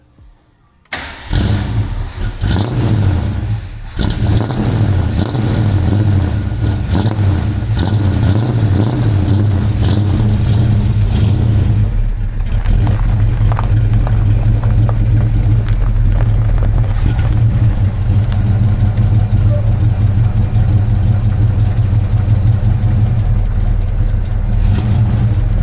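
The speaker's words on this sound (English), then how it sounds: "Cold start. No choke." A 1969 Fastback's engine cold-starts without choke, catching after a brief crank and settling into a loud, rough, steady running note close by, with throttle blips and revving through the rest of the clip.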